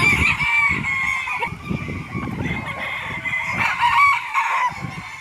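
Chickens and roosters at a crowded chicken farm cluck and crow together continuously, a dense, fairly loud chorus of overlapping calls throughout.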